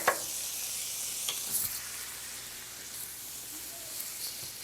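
Sausages frying in a pan for sausage scallopini, a steady soft sizzle with faint clicks and scrapes, fairly quiet and without talk.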